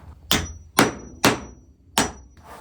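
A tight-fitting dowel is tapped into a hole in a walnut catch-all tray: four sharp, close knocks land at roughly even intervals, each followed by a brief ringing decay, with no talking.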